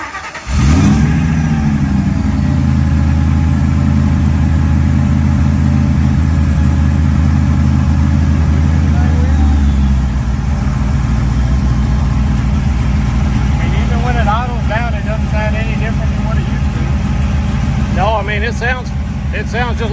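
A hot rod car engine fires up and settles into a loud, steady idle that runs close by throughout, with people talking over it in the later part.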